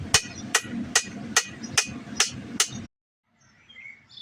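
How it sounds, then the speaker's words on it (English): A 4-pound hammer strikes a hot wakizashi blade on an anvil during forging, about seven sharp metallic blows in a steady rhythm close by, then quiet with faint birdsong in the background. "I'm going to continue using my 4-pound hammer, get the rest of the shape"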